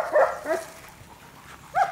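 A German Shepherd at a dog farm barks three times, with two close together and a third after a pause. The barks are moderately loud with a slight whine, and no one talks.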